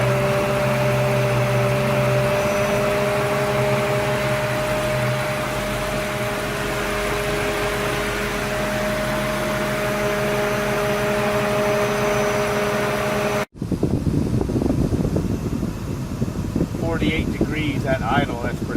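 A Ford Mustang idles with its electric cooling fan cycling, a steady engine and fan drone with a constant whirring hum that cuts off abruptly, after which wind-buffeted outdoor noise and a voice follow.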